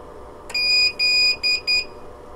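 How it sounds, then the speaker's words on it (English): A Hikvision NVR recorder beeps because its hard drive has not been initialized. A loud, close electronic tone sounds in four quick bursts, the first long and the rest shorter, over a faint background hum. "The beeping is because the hard drive is not yet initialized."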